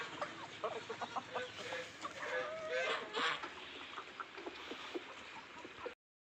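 Several chickens cluck and squawk continuously at close range, with a busy farmyard bustle around them and no talking.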